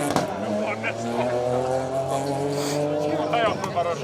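A Ford Fiesta R2 Turbo rally car drives a Welsh asphalt rally stage, its engine holding a loud, steady tone with shifting pitch and a brief rise near the end, while a commentator talks over it.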